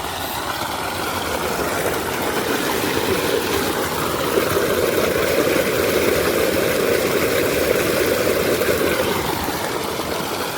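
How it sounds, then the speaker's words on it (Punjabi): A field irrigation water pump motor runs steadily at the edge of a rice paddy, a continuous mid-pitched mechanical hum blended with rushing, splashing water, constant and fairly close, with no talk. "ਬਾਕੀ ਚੱਲਦੀ ਆ ਮੋਟਰ"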